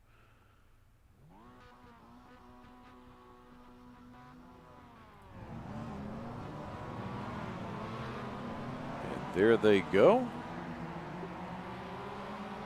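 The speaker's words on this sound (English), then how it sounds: "Hear the engines roar as the pace truck takes them away" Mazda MX-5 Cup race car engines in a sim race at Sonoma rev up with rising pitch, then swell into a loud, sustained roar as the pack pulls away behind the pace truck; a brief voice speaks near the end.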